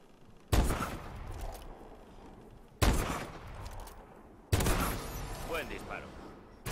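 Gunfire from the video game Call of Duty: Advanced Warfare in Search and Destroy mode on PS4, three sharp loud shot bursts with short echoing tails spaced a couple of seconds apart.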